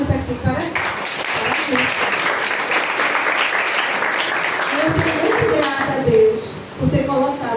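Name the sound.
audience applause at poetry evening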